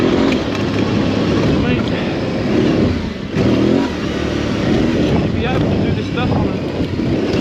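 An Aprilia Tuareg 660 adventure motorcycle, about 200 kilos, heard from on board while riding. The engine drones steadily under heavy wind rush and rises and falls with the throttle, and a voice seems to speak over it.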